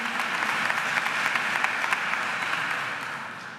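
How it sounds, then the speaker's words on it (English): Graduates at a university school of education pre-commencement ceremony applaud together, a steady dense wash of clapping from a crowd that holds for several seconds and tapers slightly at the end. "Now give yourselves a round of applause."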